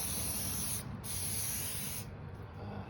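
Kiwi boot waterproofer sprayed onto Wolverine Wellington boots, a steady close aerosol hiss in two long bursts with a brief pause between them, loud and alone.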